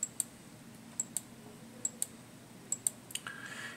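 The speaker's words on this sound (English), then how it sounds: "you simply click" A computer mouse clicks repeatedly in close pairs, several sharp little taps spaced through a quiet room, with a soft shuffle of handling at the end.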